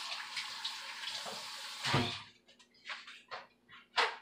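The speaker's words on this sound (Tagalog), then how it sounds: "bago pa yan, hugasan ko ang aking kamay" Tap water runs steadily in a kitchen sink during handwashing, a close, hissing stream that breaks into splashes and stops and starts toward the end.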